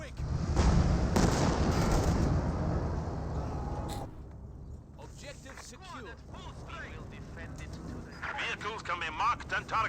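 Heavy Maxim machine gun fire bursts within a Company of Heroes 2 battle, dense gunfire and explosions loud in the first four seconds, then sparser shots with voices and battle chatter over the top.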